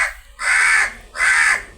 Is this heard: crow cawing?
yes